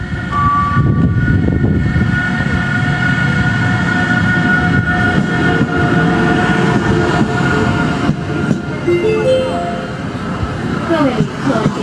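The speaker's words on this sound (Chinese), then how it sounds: "乘944次列车马上进站了" Passenger train C944 on the Hegang–Jiamusi service pulls into Heli Station on the Jiahe Railway, a loud continuous rumble and clatter of wheels with squealing brake tones rising near the end, while a voice speaks over it.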